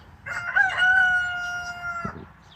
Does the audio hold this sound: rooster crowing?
yes